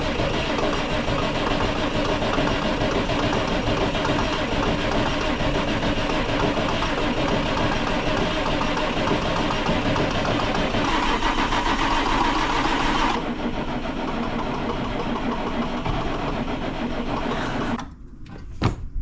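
A Massey Ferguson 6480 tractor that has sat idle for two years runs a long, steady diesel engine drone that holds without break and ends with a few sharp clunks, with no talk over it.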